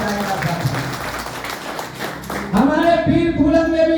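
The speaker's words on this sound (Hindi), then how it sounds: "उनके लिए भी जोरदार तालियां बजाएगा साथियों" A crowd at a Veer Phoolan Devi Jan Sangathan organisation gathering breaks into loud clapping that fills the first half. Then a strong, sustained tonal voice or music cuts in and takes over.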